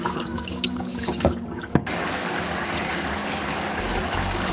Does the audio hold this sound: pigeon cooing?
no